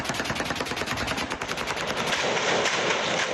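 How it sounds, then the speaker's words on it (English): Rapid bursts of automatic gunfire crackle through Beirut city streets during clashes between armed groups, dense overlapping shots ringing out continuously and loudly with echoing reports. "For hours, shooting echoed through the streets of Beirut."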